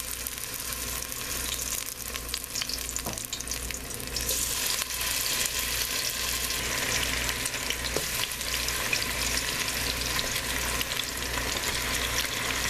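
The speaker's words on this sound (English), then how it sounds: "we're going to add our oxtails" Oxtails searing in hot oil in a pot for Jamaican-style oxtails, a steady dense sizzle and crackle close up, continuous throughout with slight surges and no talking.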